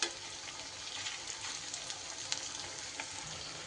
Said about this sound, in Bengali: সুন্দর করে এইভাবে উল্টে পাল্টে এবার ভেজে নিতে হবে।